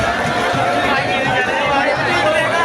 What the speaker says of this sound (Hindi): इससे पहले तो आप देख ही रहे हो कि यहाँ पर बहुत भीड़ हो गई है